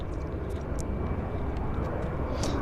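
A United airliner takes off at Vancouver Airport, a steady broad jet roar held at even loudness throughout, with faint higher chirps scattered over it and no talk.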